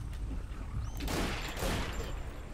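Gunfire in the video game Primal Carnage Extinction, fired from a commander's rifle at dinosaurs: two quick loud bursts of rifle fire over a low rumbling background, with no talk.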